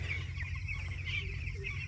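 A flock of 11-day-old chicks on a village poultry farm peeps steadily, a dense continuous chorus of high chirps with a low hum underneath and no talk.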